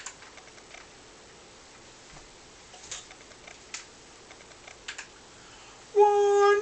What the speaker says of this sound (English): Track 1 is a click track. All you'll hear is the beat and the pitch being given.